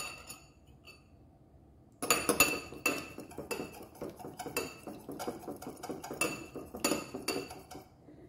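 A utensil clinks and scrapes steadily against a bowl while mustard dressing with acid is whisked, the busy clatter starting abruptly after a quiet pause and continuing close by without talk.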